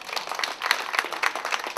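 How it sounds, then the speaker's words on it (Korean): Audience applause at an education council's 15th-anniversary training session and general meeting in Jungnang, welcoming a professor to the stage; dense, steady clapping from a room of people, fairly close and sustained throughout. "우리 교수님 박수로 환영해 주시죠."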